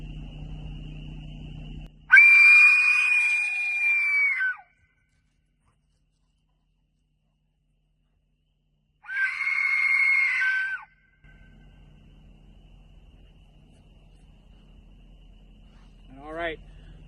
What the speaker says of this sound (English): Deekec Screaming Aztec death whistle right here